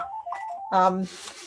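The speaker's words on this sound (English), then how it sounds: "sorry about my phone in the background" A phone sounds in the background during an author talk, giving short electronic tones followed by a louder buzzing ring burst, with a voice briefly heard.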